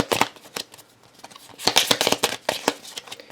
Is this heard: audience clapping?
no